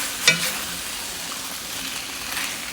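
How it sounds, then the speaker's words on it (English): Chicken pieces fry steadily in a pan at home alongside bok choy, with a continuous sizzle and a brief clink of a utensil near the start; no voices. "I let it cook on this side for about 3 minutes, and I'm gonna flip it over to do another 4"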